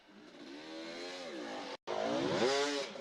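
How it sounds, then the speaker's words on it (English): An offroad motorcycle races past during a Red Bull Romaniacs offroad race stage, its engine revving and rising and falling in pitch as it goes by close, with a brief cut near the middle. "I've just got Brett Swanepoel coming past us, so he decided to ride today"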